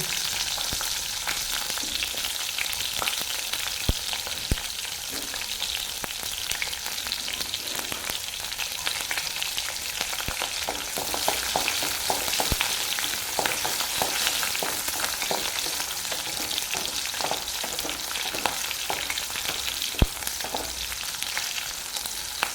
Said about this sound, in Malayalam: ചൂടായി വന്ന വെളിച്ചെണ്ണയിലേക്ക് നമുക്ക് ഉള്ളിട്ട് കൊടുക്കാം